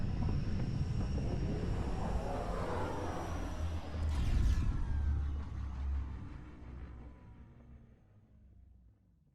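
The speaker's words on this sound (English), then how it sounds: "Descent engine engaged." The spacecraft descent engine in Mass Effect: Andromeda gives off a loud, steady, low rushing roar with a brief whooshing surge midway, then gradually fades away.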